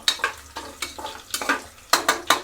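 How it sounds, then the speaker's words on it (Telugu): Green chillies frying in a pan for Telangana bagara rice, with repeated bursts of sizzling as they are stirred, close and fairly loud in uneven pulses. "ఈ పచ్చిమిర్చి ఇదంతా కూడా మంచిగా ఫ్రై చేసుకోవాలండి"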